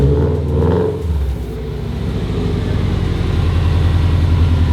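A Subaru WRX STI fitted with an EG33 flat-six engine revs hard and steadily, a loud close rumbling drone that holds and climbs slightly without letting up, with no voices over it.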